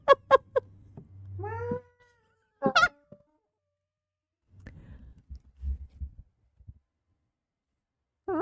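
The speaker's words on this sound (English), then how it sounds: "He just meowed at you, Ronan." A cat meows indoors, a few clear, fairly close calls near the start, a louder cry around the three-second mark and another at the very end, with quiet stretches and low rumbling background between them.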